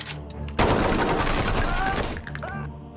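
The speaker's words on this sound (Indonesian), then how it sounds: "Polanski akhirnya ditembak mati" Rapid automatic gunfire erupts in a gangster film scene, a dense loud burst of shots lasting over a second and a half before fading into a quieter tail, with no speech.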